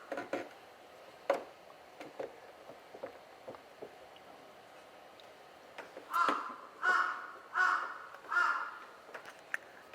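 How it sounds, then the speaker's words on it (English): A large crow caws outdoors in a run of four loud, evenly spaced calls, preceded by a few scattered clicks and faint background sounds. "Is a huge crow."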